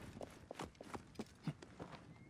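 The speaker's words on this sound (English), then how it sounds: "Horse!" Horse hooves in Assassin's Creed Origins, a faint, quick clip-clop of several light steps in an irregular trot rhythm over a low game background.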